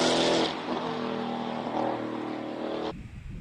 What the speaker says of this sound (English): Glorious sound of a BMW V10 launching off the start line